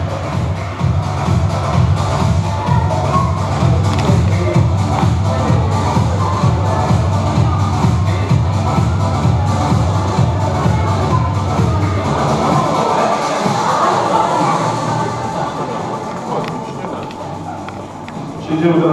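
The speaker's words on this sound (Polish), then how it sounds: "Dziękujemy Panią wielkie brawa" An audience at the Underground Power Day 7 awards ceremony claps steadily and rhythmically for a long stretch. The clapping thins out near the end as a voice speaks over the crowd.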